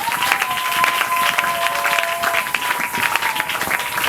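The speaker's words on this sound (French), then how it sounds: "qu'on acclame très fort pour le Seigneur" A congregation at an evangelical church seminar claps loudly and continuously for the Lord, a dense, close wall of applause with a sustained high tone ringing through the first half.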